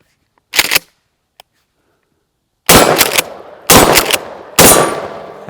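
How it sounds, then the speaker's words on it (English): A shotgun firing 00 buckshot outdoors during a patterning test, four loud, sharp blasts close to the microphone, the first alone and three more in quick succession a couple of seconds later, each trailing a short echo. "That's the sound of gunfire."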